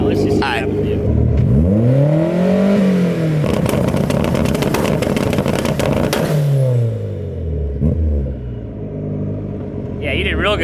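A Mazda Miata engine revs hard several times, rising and falling in pitch, loud and close, with a rough rumbling idle between bursts and water coming from the exhaust.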